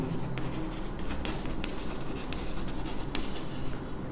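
Pen or pencil writing on paper during a Class 10 maths lesson on surface area and volume, a steady close scratching and rubbing with short strokes that runs throughout, with no talking.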